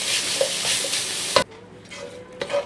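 Peeled, cut carrots sizzle in a pot for red wine braised brisket, a bright frying hiss with stirring scrapes, loud for over a second, then dropping to a quieter crackle with a few light clinks.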